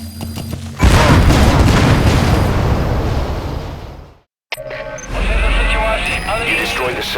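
Separator tank blowing up in Metal Gear Solid V, a sudden loud blast with a long rumbling roar that fades, a brief silence, then further rumbling and mechanical noise, with voices in the mix.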